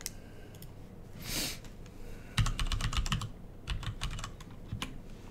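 Fingers type on a clicky computer keyboard at home, bursts of rapid clacking keystrokes separated by brief pauses, close and fairly quiet, with no talking.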